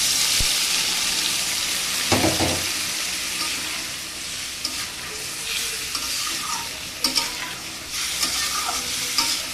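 Hilsa fish sautéing in a pan with salt and turmeric water, a steady loud sizzle with occasional stirring scrapes and clinks throughout, no talking.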